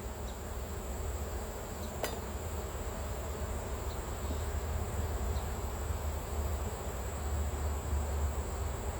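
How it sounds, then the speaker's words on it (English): A soft, continuous hum of many honey bees buzzing close by around a honeycomb during honey harvest, steady and low with occasional individual buzzes drifting past. "To get the bees off of it."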